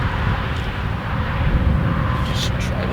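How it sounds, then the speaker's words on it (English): A Gen 3 Ford Raptor with a V6 engine gives a loud, steady, close engine roar, broad and droning with no clear revving, running for several seconds. "The sound is it's weird how V6 sounds like this"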